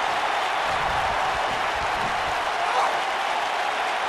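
Crowd cheering and applause fill a wrestling arena in WWE 2K19, a steady, dense roar holding at one level throughout with no clear break.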